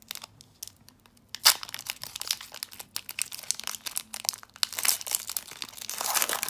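A Pokémon Sun and Moon Forbidden Light booster pack wrapper is crinkled and torn open up close, with scattered crackles that build into denser tearing and crumpling toward the end.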